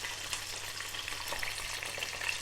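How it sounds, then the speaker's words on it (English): Prawns batch frying in hot oil for salt, pepper and chilli prawns, a dense, continuous close-up sizzle and crackle with no talking. "How are we getting on with our batch frying, people?"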